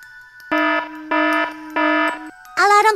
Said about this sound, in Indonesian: Alarm CCTV kita bunyi.